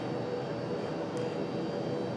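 A commercial propeller airliner at Raleigh-Durham airport, a steady broadband engine drone held at a constant, fairly distant level with no speech.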